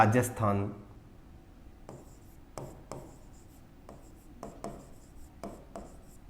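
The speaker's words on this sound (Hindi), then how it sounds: "ये आगे पूरा मैं लिख देता हूं।" Chalk or marker taps and scratches across a board in short strokes, several distinct contacts spaced through the clip after a brief burst of louder handling noise at the start, heard close in a quiet room.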